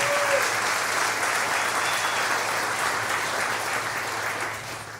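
A crowd at a community awards ceremony applauds in sustained, even clapping that fades slightly toward the end, with no speech over it.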